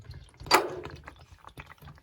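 Very thin engine oil drains from a go-kart, with one sharp splash followed by quieter dribbling and scattered drips close by.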